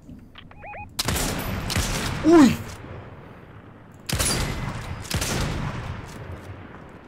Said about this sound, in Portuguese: Estão aqui aos tiros à minha frente.